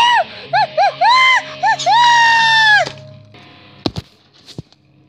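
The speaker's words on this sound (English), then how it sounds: "hey, you hear that? Sounds like Chica screaming now." A high, wavering, rising-and-falling shriek from an animatronic chicken character on a puppet show, several short bursts and then a long sustained scream, followed by a few sharp clattering knocks.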